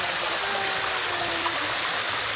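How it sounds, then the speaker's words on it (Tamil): Hot spring water welling up from the ground in Chiang Rai, Thailand, makes a steady, close rushing and gurgling flow that carries on unbroken throughout. "அந்த சுடுதண்ணி கீழேருந்து வருது"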